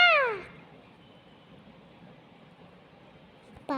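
A pet cat gives one short, close meow at the start, followed by quiet room noise and the beginning of another sound at the very end.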